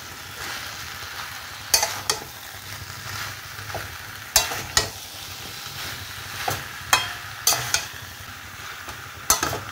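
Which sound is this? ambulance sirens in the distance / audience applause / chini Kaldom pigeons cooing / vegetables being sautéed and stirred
vegetables being sautéed and stirred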